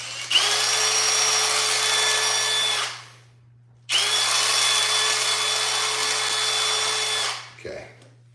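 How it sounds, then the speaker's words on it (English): Two sustained bursts of a power drill grinding through hard, set adhesive, each about three seconds long and winding down, with a short pause between them. "always like to drill out of adhesive because"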